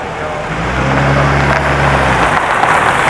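A Mercedes car engine idles steadily with a low, even hum and a faint higher whine, with some road-like noise and a voice in the background.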